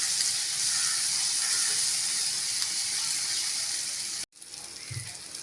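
Chili powder masala sizzles steadily in a pan while being sautéed for a drumstick fry, a bright continuous hiss that cuts off abruptly, then resumes more quietly.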